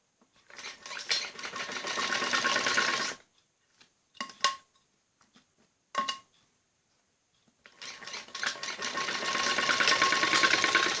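A sewing machine stitches the neckline of a kameez in two long, steady runs, one at the start and one at the end, separated by a quiet pause broken by a few short clicks and taps.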